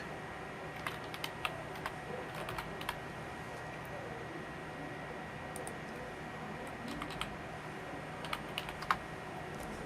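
An email subject is typed on a computer keyboard: quiet, irregular runs of light keystrokes click steadily over soft room tone, with no voices.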